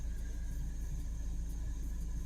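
A car engine idles after a check engine light repair, a low steady rumble with a faint even hum, heard close and without voices.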